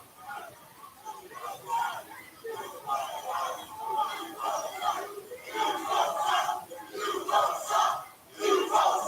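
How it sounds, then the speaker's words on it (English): Wrestling arena crowd chanting in rhythmic bursts during a TNA iMPACT broadcast, a large mass of voices rising and falling in repeated syllabic pulses, moderately loud and somewhat distant. "Crowd chanting, you both suck."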